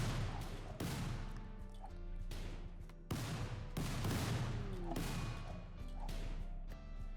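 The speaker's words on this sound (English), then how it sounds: "They're just continuously just destroying the squirrels with grenades." Grenade blasts tear through squirrels in RimWorld, a run of loud sharp explosive cracks and thuds repeating about every second or two, some overlapping, with debris-like crackle trailing each burst.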